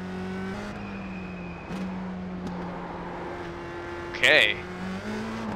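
Engine drone of a USF2000 open-wheel race car in the iRacing sim, a steady near hum with small pitch shifts under a brief spoken word, and a short sharp tonal burst near the end.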